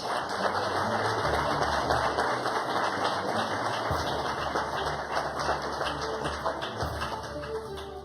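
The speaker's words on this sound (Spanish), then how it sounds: "Un fuerte aplauso para ella." A crowd at a ministerial swearing-in ceremony in Colombia applauds steadily, a dense and continuous clapping that stays loud throughout and eases slightly toward the end.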